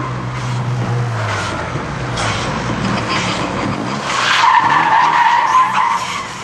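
Tires skid and squeal as a car drifts sideways after a clutch kick in a drift competition, engine roaring throughout, the screech growing louder near the end.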